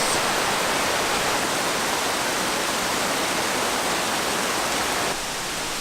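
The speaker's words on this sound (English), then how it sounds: "The sounds of this waterfall and the water running through the little creek, it's so relaxing." Steady, loud broadband rush of a waterfall and water running through a small creek along the Road to Hana in Maui, continuous and close, without voices, easing slightly near the end.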